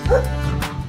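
A dog in a playful animated cartoon gives a short yipping bark and a whimpering whine, close and fairly loud, in under a second.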